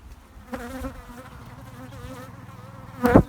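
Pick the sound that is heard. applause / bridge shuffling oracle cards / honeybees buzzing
honeybees buzzing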